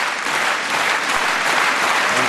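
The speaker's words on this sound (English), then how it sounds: "crowd clapping there in support of the jumps going on in the meantime" A large stadium crowd at a Diamond League athletics meeting claps steadily and continuously, a dense even wash of applause for field jumps.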